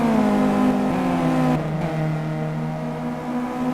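Race car engines in the Simraceway sim racing game droning loudly as cars cross the start-finish line, with a steady, near whine that shifts pitch partway through as one car passes and another follows.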